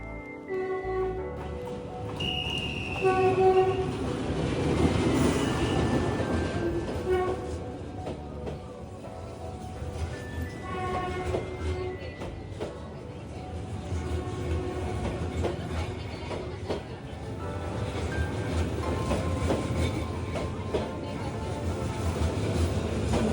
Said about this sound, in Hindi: और ये आ चुकी थी ट्रेन